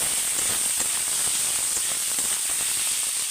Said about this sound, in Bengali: বেটে রাখা আদা রসুন অল্প পেঁয়াজ এটাতে দিয়ে দেব এটা অল্প নেড়ে চেড়ে